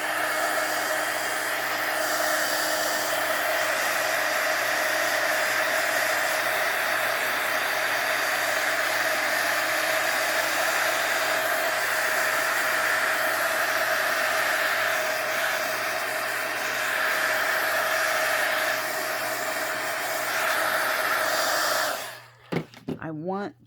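A hair dryer blows steadily on a junk journal page for about 22 seconds, a loud continuous whooshing hum that cuts off abruptly near the end, leaving a few brief handling noises.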